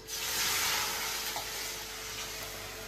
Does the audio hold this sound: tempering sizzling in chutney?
yes